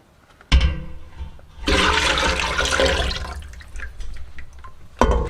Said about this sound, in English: Get your lye water and dump it into your oils at this point.